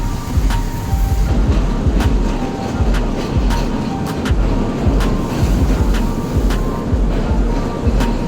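A Sri Lankan train on the Beliatta to Colombo line rolls along with a loud, steady rumble and rhythmic clacking of wheels over rail joints, heard close from aboard.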